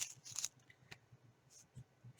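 Scissors snip through canvas while cutting reinforced tags, a few short crisp cuts and rustles of fabric, close and quiet, with brief handling noises in between.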